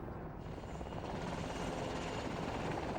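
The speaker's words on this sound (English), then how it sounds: "More attack helicopters were arriving by the hour, and we saw and heard intense air activity over southern Iraq" Attack helicopters flying over southern Iraq produce a steady, fairly distant rotor drone that holds evenly throughout, with no voices.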